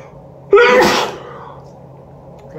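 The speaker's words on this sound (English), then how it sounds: "Every time I feel a burp coming up, I sneeze instead" A single loud, close sneeze bursts out abruptly and fades into a quiet breathy tail, with near silence before and after.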